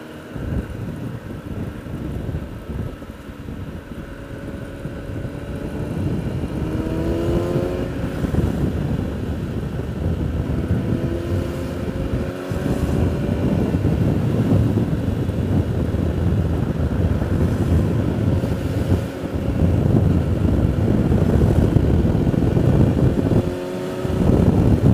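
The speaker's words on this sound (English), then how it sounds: "Very, very windy." Strong wind roaring across the microphone of a motorcycle being ridden, a loud continuous buffeting rush with the engine droning and shifting pitch underneath, no talk.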